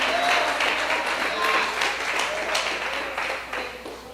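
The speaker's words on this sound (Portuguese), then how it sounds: "Aplauda o Senhor." A church congregation applauds in a steady wash of clapping that fills the whole stretch, with a faint voice sounding under the noise.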